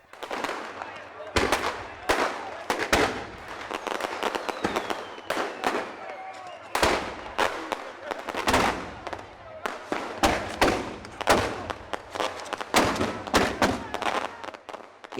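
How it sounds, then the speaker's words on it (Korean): Repeated sharp bangs and crackling bursts of fireworks at a Christmas street celebration in Cuba, going off close by in irregular clusters, with a crowd murmuring and shouting in the background. "폭죽을 터뜨려 하늘을 아름답게수놓는 모양인데"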